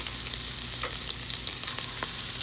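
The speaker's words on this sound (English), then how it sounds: "Let them sear, get nice color, don't shake the pan." Seasoned diver scallops sear in an oiled Teflon pan, a close, steady crackling sizzle with small pops scattered throughout, heard alone.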